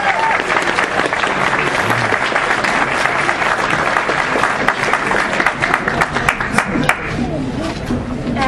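A crowd at East Coast Comicon 2018 gives a big, loud round of applause during an awards presentation, dense clapping that stays steady for the whole stretch with some cheering mixed in.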